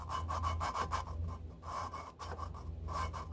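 Hand lapping the valves of a 351 Windsor engine with gritty grinding compound: close, rhythmic back-and-forth rasping and scraping strokes, steady and alone with no talk.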